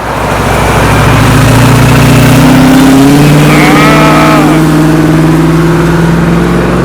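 A Chevrolet Camaro accelerates hard past a cars and coffee gathering, its loud engine rising in pitch as it pulls through close by over a steady crowd and traffic background.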